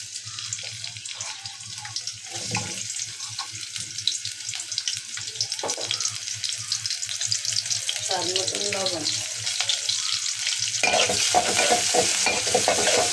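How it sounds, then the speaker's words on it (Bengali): Chopped onions sizzle in a pan for a Bangladeshi fish curry while a spatula scrapes and stirs them in repeated strokes, the frying hiss steady and close throughout, with no talking. "পেঁয়াজটা আমি ভালো করে বেজে নিয়েছি"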